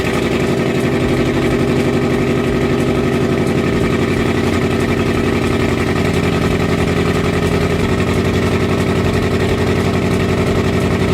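A forged Ford 4.6L 2V V8 runs at a steady, loud idle close by, its rough, throbbing pulse continuing evenly with a slight change in tone partway through.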